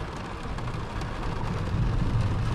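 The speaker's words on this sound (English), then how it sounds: "It's raining." Steady rain falls at an outdoor rummage sale with nothing covered, a continuous broad hiss and patter that grows slightly louder toward the end, with no voices.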